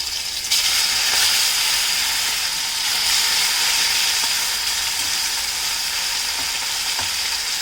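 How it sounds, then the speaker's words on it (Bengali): Kuche eel fish fries in hot oil in a wok, giving a loud, continuous bright sizzle with steady hissing and faint crackles, close up and without talk. "এবার প্রথমে কুচে মাছটাকে ভেজে নিতে হবে।"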